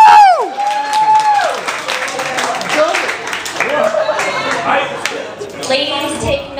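Comedy club audience claps and cheers, with whoops rising and falling in short bursts and mixed voices shouting in a lively room.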